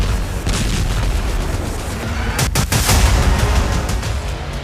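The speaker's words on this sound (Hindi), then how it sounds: "लेकिन एक दिन पहले 25 नवंबर को इजराइल ने लेबनान पर ऐसे बम बरसाए" An Israeli bombing strike on Beirut, Lebanon, is heard as a loud, sustained rumble with a sharp blast bursting out midway, with no voices.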